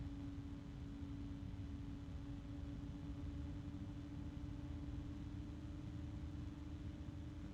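A Noctua computer fan spinning at maximum RPM produces a steady, even whoosh with a faint constant hum, quiet and unchanging throughout with no voices.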